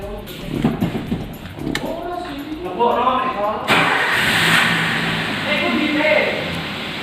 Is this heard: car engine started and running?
yes